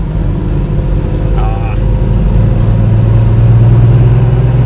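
A 1972 Chevrolet Nova idles with a loud, steady low rumble, while people talk over it and a brief tonal chirp cuts in near the start.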